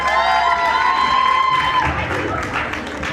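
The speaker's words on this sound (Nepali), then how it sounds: "अब उहाँको लागि ताली बजाइदिनु हुँदैछ।" Audience clapping and cheering at a farewell event at an academy, a dense continuous wash of applause with some shouts, with a sustained tone and faint voices mixed in at first.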